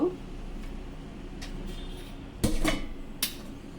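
A metal pot set down on a kitchen stove while a ladoo sweet is being made, a sharp clank at the start and then a few lighter clinks and knocks against a quiet room background.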